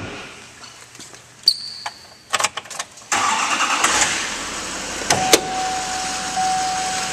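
A 2012 Chevrolet Silverado 2500 crew cab with a 6.6L LML diesel engine cranks and fires up after a few clicks, then settles into a steady, loud diesel idle heard up close.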